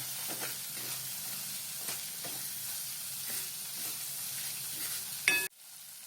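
Turmeric, coriander powder, red chilli powder and garam masala being stirred into yam (suran) curry frying in a pan, with a steady sizzling hiss broken by soft periodic scrapes of the spoon, ending in a brief clatter.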